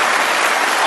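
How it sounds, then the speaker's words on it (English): Audience applause at a Stephen Colbert late-night talk show, a steady, loud wash of clapping filling the whole moment without pause. "I hope that applause is for my mom"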